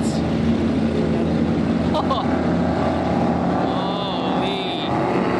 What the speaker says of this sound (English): Here comes the jet boats.